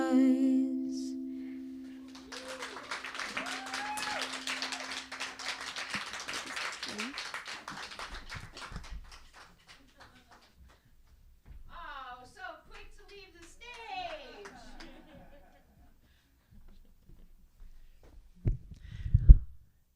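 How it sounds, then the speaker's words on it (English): Audience applause at a youth music showcase open mic, a dense burst of clapping that swells loudly for several seconds after the performance and then fades, followed by a few voices talking. "Let's give another round of applause for Kyan."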